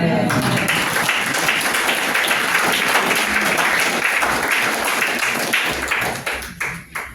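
Church congregation applauding during a Wednesday service in Treichville, dense steady clapping filling the room for several seconds before tapering into scattered, fading claps.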